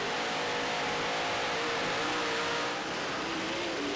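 Dirt late model race car engine heard from onboard, a loud, sustained mid-pitched roar with shifting tone as the throttle varies, alone without talk.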